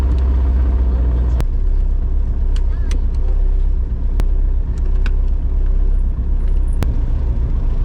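A loud Toyota Corolla engine roars steadily throughout, a deep rumble with a few sharp clicks cutting through, close and continuous.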